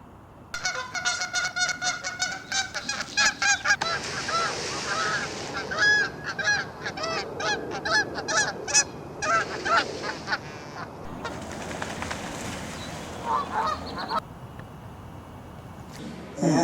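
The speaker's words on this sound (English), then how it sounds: "Canada goose." Canada geese honking loudly in repeated bursts, several birds calling over one another in a noisy, quarrelsome chorus, with brief pauses between volleys.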